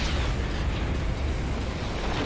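A cannon explosion in the video game No More Heroes 3 gives a loud, dense, rumbling blast that roars without a break for the whole couple of seconds.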